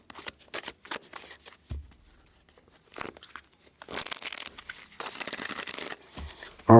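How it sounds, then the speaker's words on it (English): A deck of tarot cards is shuffled in quick bursts of riffling and flicking, with short pauses between handfuls and a few soft knocks, fairly close and otherwise quiet. "let's cut the deck here"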